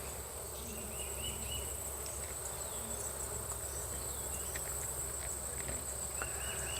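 Honey bees in an open hive hum in a steady, close buzzing drone, with crickets or other insects chirping through it and a few soft taps nearby.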